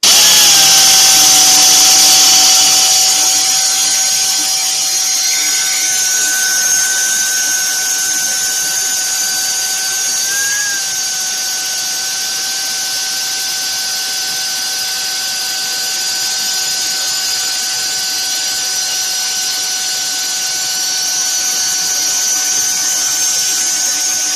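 A power sander working steadily at 800 grit over two passes during a renovation, a loud continuous high-pitched whine holding an even tone with a brief wobble partway through.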